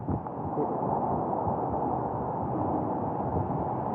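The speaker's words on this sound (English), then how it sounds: "All right, here comes the wind again." Strong storm wind during a severe thunderstorm roars and rushes in a dense, continuous wall of noise, close and steady for the whole stretch with no speech.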